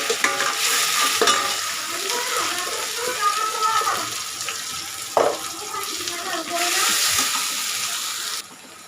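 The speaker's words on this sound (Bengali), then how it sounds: "আমার শাক ভাজা হয়ে গেল" Spinach greens frying and being stirred in a pan, a steady broadband sizzle with scraping stir strokes, close and continuous, with water running in the background near the end.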